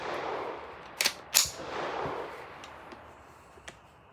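Two sharp gunshot cracks from a Ruger 10/22 rifle firing CCI Mini Mag rimfire ammunition outdoors at a range, close together and fairly quiet, followed by a couple of fainter distant shots.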